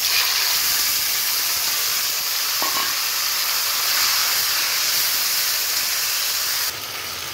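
Mutton pieces sizzling steadily as they go into hot oil with browned garlic, a dense continuous frying hiss close by with no talking.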